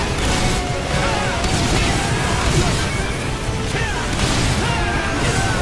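Dense, continuous blasts and crashing rumble fill the whole stretch in the video game Earth Defense Force 4.1, with explosions overlapping amid chaotic noise and faint voices underneath.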